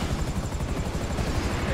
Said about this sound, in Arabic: ودي الطيارة كانت معدية من جنبي